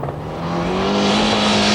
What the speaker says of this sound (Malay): Sementara ini pula ialah kereta yang dipandu oleh Tolly Chalice dan Steve Van de Beel dari Australia dari tim Mark V memandu Mitsubishi Galant VR4